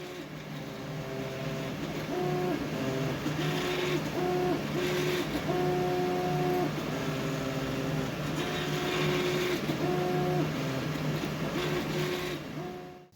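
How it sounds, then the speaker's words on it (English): A 3D printer printing robot arm gear parts, giving a continuous close hum with shifting stepper-motor tones that rise and fall in tuneful, repeating patterns as the head moves, steady throughout before cutting off at the end. "let's get those parts printed and installed on the robot"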